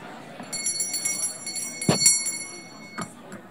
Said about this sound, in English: I'll give you about 10 seconds and then I ring the bell